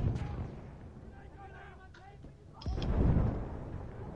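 Battlefield 1 gunfire and a heavy blast rumble through the clip, with a deep boom near the end over a dull battle din, while a player's voice speaks faintly throughout.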